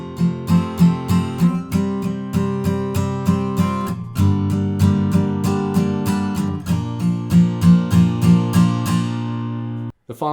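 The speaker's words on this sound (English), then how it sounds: "in the build up, I'm just going to do all down the strums" Verse chords of a song are strummed on guitar with steady, evenly spaced down strums that ring clearly up close, the chord changing partway through before a final ringing stop.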